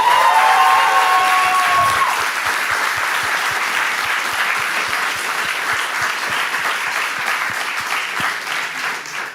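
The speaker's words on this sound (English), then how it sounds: "Another round of applause, please." Loud, dense audience applause fills a large hall at the close of a hackathon closing ceremony, holding steady and full throughout with some cheering in the crowd.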